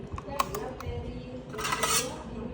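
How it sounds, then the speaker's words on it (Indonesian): Metal surgical thread scissors are handled among other instruments, giving sharp metallic clinks and taps at close range, scattered across the moment with a brighter rattling cluster toward the end. "Gunting benang digunakan untuk memotong benang."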